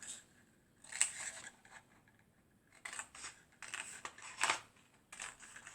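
Scissors snipping paper for a handmade 3D greeting card, a few short close crisp cuts in separate bursts with quiet pauses between.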